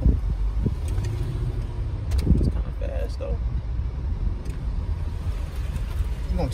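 A supercharged Land Rover Range Rover engine running with an uneven putt-putt idle, a low rumbling drone heard from close by while a person talks.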